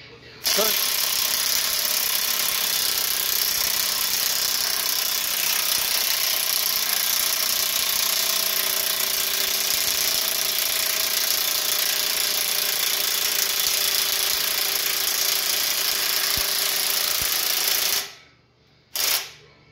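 A Chevelle project car engine cranks over steadily without catching for about eighteen seconds, a loud continuous whirring grind that cuts off abruptly as the battery dies, followed by a brief sputter.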